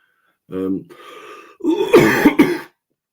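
A person coughs and clears their throat in a rough, harsh burst, following a short vocal sound, loud and close.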